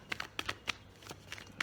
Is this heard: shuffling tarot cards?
yes